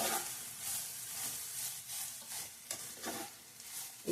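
Amla juice frying in ghee in a pan, a soft continuous sizzle and hiss with occasional stirring scrapes, fairly quiet and close, no talk.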